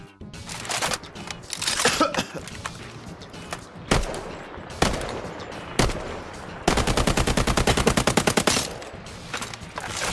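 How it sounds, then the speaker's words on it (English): Rapid AK rifle gunfire from the video game Highguard, bursts and single shots separated by short pauses, then a long sustained automatic string of evenly spaced, loud, close cracks. "Listen to this AK. That's an AK."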